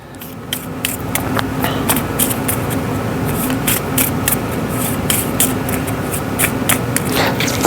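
Repeated riffle-shuffling of a deck of cards for the board game Legendary Encounters: Alien, a steady close-up papery rustle with crisp, regular clicking bursts throughout.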